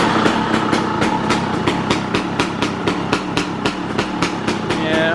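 A poorly running Beta 300 dirt bike engine that won't idle properly: a close, loud, rhythmic chugging with evenly spaced pulses at about four per second, steady throughout.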